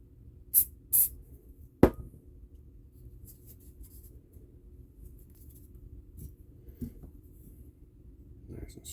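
Two quick hissing squirts from a spray bottle wet a tail piece while building a Carl Goldberg Ultimate 10-300 model airplane fuselage, close and brief, followed by a sharp click and quiet handling noises.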